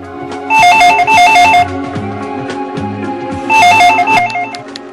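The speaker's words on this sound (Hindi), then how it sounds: "नेहा के भाई दीपक के पास फोन आता है कि नेहा ने जहर खा लिया।" Telephone bell ringing in a crime drama as a call arrives, in two bursts of repeated trilling rings separated by a short pause, loud and close over a low background score.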